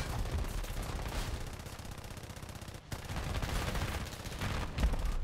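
Dense sustained gunfire rattles on in the War Thunder game, with the Australian A.C.IV tank's fire as a continuous fusillade, loud and near, with a brief gap midway.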